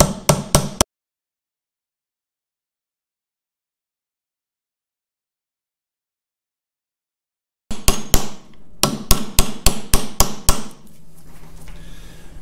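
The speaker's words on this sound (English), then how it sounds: "So I'll just take a narrow chisel and get under that and just start heaving it up." Hammer blows on a narrow chisel driven under the rolled edge of a seal during a Caterpillar D2 track roller disassembly: a quick trio of sharp metallic strikes, a long silence, then a rapid run of about nine close, ringing hits.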